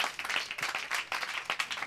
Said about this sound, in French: Je propose d'applaudir.